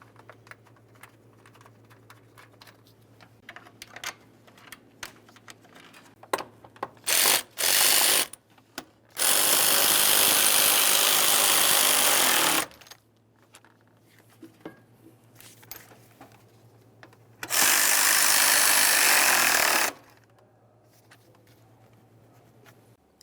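Ratchet driving the two top mounting screws of a cooling fan assembly on a 2015-2020 Ford F-150 3.5L V6, heard as two sustained bursts of rapid clicking, each a few seconds long, separated by quieter handling taps and clunks.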